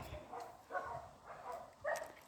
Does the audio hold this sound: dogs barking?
yes